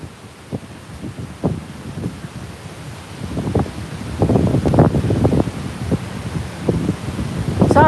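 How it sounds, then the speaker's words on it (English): Wind buffets a microphone while driving through Presque Isle State Park, producing uneven low rumbling gusts and thumps that grow stronger and denser toward the end. "it's kind of windy like I said"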